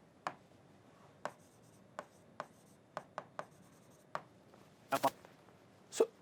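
Marker or chalk strokes on a board during a physics lesson, a series of short separate scratches and taps spread across the span, fairly close and quiet, with no talking.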